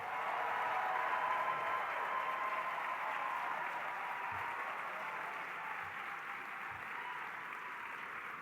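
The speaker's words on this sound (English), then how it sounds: "Give them a resounding round of applause." A large crowd at a gala applauds continuously, a dense wash of clapping that holds steady and fades slightly toward the end.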